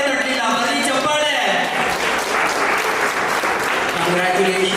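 Audience applause at an award ceremony, a dense, sustained roar of clapping throughout, with a voice talking over it at the start and again near the end.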